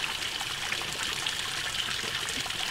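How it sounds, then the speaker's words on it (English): Water pours slowly from a dipper into a sample bottle, a steady hissing trickle that stays even and close throughout, with no voices. "you want to slowly pour from the dipper into the sample bottle"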